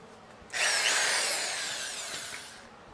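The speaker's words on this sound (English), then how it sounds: "Turn the power back on, and then I can use the corded drill." A corded power drill whirs up sharply and runs steadily for about two seconds as it drives a screw through drywall during a bathroom remodel, loud and close, then winds down.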